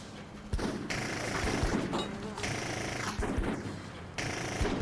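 Bursts of automatic gunfire in a Full Spectrum Warrior: Ten Hammers firefight, several loud rattling volleys separated by short pauses.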